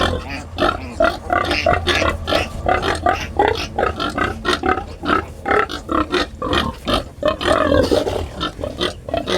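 Squealing of an angry piglet, harsh and agitated, repeating in rapid loud bursts close by for the full stretch, with grunting in between and no talk.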